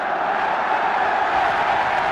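A large stadium crowd roars and cheers steadily as Arsenal's Frank McClintock goes up to collect the FA Cup after the final against Liverpool, a dense, unbroken wall of distant noise.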